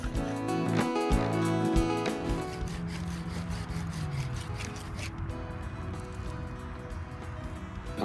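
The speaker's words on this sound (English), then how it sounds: "just gradually allowing the spindle to bed into the board, using the whole length of the bow" Bow drill spindle turning against a wooden board to make fire by friction, a steady back-and-forth rubbing and squeaking rhythm at close range, continuous throughout with no talking.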